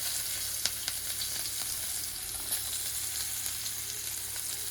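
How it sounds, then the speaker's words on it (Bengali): Two fish fry in hot oil in a home kitchen, a steady close sizzle with faint crackles and the occasional stir or scrape, with no voices. "এই মাছ দুটো ভাজি।"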